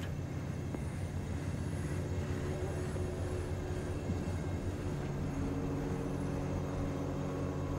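A freight train rumbling past at a steady low roar inside the game Cyberpunk 2077, a continuous rolling drone that grows slightly heavier toward the end, with no talk.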